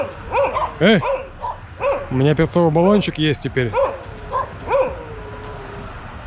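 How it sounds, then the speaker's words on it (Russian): Several dogs bark and yip in quick bursts close by on a roadside in Uzbekistan during a mountain-bike tour with a tent, with someone talking over the barking. "Как собаки налетели, блин."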